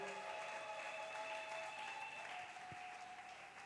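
Applause from a church congregation, a continuous wash of clapping that holds steady and fades slightly toward the end, with no talking over it.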